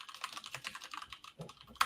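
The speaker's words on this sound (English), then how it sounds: "I love Richard's frantic typing" Fast, frantic typing on a computer keyboard, a dense stream of quick clicking keystrokes with a heavier clack at the end, close and clear with no voices.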